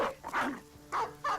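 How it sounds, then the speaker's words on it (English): A dog in the tactical game Battle Brothers gives a few short, close barks and yelps in quick succession, standing alone without talk. "let his new dog off the leash"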